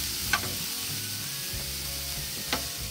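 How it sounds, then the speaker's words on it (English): Onions sautéing in a pan for a tomato basil sauce give a steady, soft sizzle throughout, with a couple of faint clinks from stirring. "now that our onions have sauteed and transparent"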